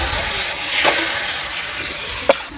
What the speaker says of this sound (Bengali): সিদ্ধ করে রাখা কচু শাকগুলো দিয়ে দেবো, দিয়ে এবার নাড়তে থাকবো।